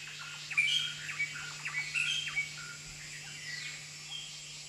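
Forest birds call in Periyar Tiger Reserve, Kerala, with babblers, treepies, flamebacks and woodpeckers among them: a steady stream of high chirps, whistles and short trills, some close and sharp, over a low constant hum.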